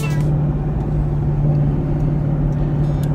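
Steady car engine drone while driving to a gas station to fill up with E85, a continuous low hum with road rumble throughout, no talking.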